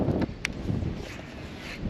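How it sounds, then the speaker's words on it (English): Wind gusting over open water during a kayak fishing tournament in Colorado, a steady broadband rush with microphone buffeting, fairly loud and continuous, with a brief sharp knock near the start. "Oh, wind is getting nutty."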